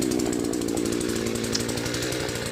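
A 62 cc Timberpro chainsaw runs continuously at high revs, a loud close buzzing drone with a steady rapid pulsing rhythm as it cuts wood.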